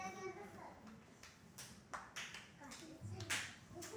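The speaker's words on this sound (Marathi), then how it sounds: "Clap for Akshay." Young children in a classroom clap for a classmate, a brief patter of scattered hand claps mixed with small voices and chatter.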